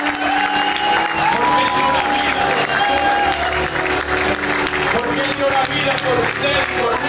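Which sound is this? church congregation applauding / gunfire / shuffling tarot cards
church congregation applauding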